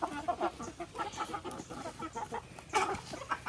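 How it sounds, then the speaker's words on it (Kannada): Country chickens clucking in a village yard, a run of irregular, closely spaced clucks and short squawks rising and falling, fairly near and alone with no talking. "ಕೋಳಿ ಊರ್ದ ಕೋಳಿ"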